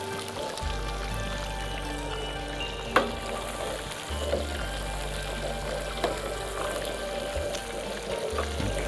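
Pork ribs deep frying in hot oil bubble with a low, uneven sizzle while being nudged under with chopsticks, a few light clacks and knocks against the pot standing out over the steady background.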